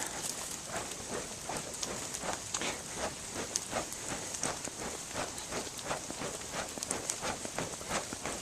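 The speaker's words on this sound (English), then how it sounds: "Still raining." Steady rain falling outdoors, a dense even patter of drops on surfaces that continues without pause, fairly close and moderately loud, with no voices.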